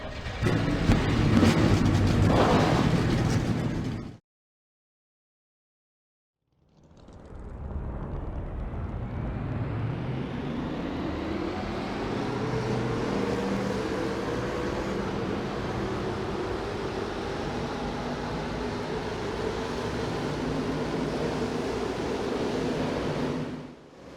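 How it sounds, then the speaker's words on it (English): Race car engines in a racing video game: a loud roar cuts off, then after a short silence a broad, steady engine drone swells back and holds at high level, with no talk. "Drivers, start your engines."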